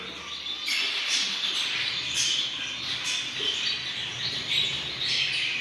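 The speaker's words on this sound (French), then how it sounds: "Alors je vous montre un peu les oiseaux, regardez, il y a pas mal de petites mutations, il y a des blancs, des gris, des beiges" Zebra finches in an aviary of white, grey and beige colour mutations give a steady chorus of small high chirps and peeps, moderately near and continuous throughout.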